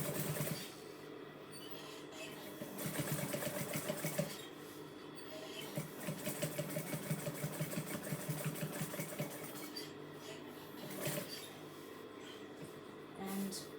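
A sewing machine stitches fabric over a cardboard gift box, its needle motor running in rapid rhythmic bursts with short pauses between runs, close and moderately loud.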